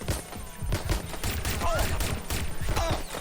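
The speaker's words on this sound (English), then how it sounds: "You only just noticed I was shooting?" Gunfire in Watch Dogs Legion cracks in a dense, rapid volley of close shots that keeps going for several seconds, with faint voices underneath.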